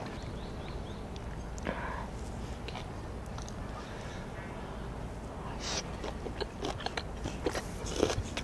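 Pork belly eaten with pollock roe, chewed up close with repeated crunchy bites and wet mastication over a steady background hiss, growing a little louder near the end.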